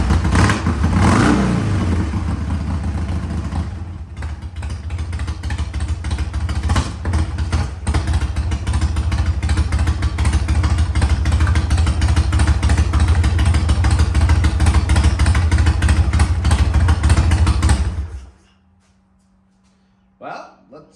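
A 2006 Harley-Davidson Sportster, left unused for six years, fires up and runs with a loud, close, lumpy engine rumble and clatter for about eighteen seconds before shutting off into near silence.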